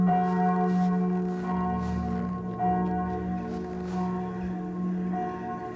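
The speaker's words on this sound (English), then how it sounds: "Maybe ring the bell." Inside the video game We Were Here Forever, a large bell in a graveyard rings with a resonant toll, struck repeatedly so the long, ringing tones overlap and sustain loudly.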